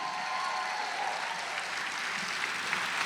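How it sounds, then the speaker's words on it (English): A pageant audience gives a steady round of applause, a soft, even wash of many hands clapping at a distance without voices. "let's give her a loving round of applause."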